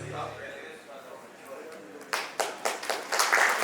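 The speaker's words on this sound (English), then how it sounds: "Big round of applause, everybody." Clapping starts partway through at an investment talk on Rwanda. Before it a voice speaks over a quiet room, then scattered hands clap in uneven bursts that build toward a fuller round.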